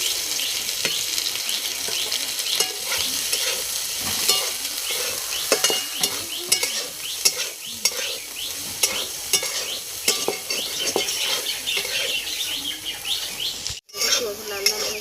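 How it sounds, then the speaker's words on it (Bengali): Soybean chunks fry in a little oil in a pan, a constant close sizzle broken by frequent scraping stirs and clinks, steady the whole way with one brief gap near the end. "একটু তেল দিয়ে সোয়াবিন ভেজে নেব।"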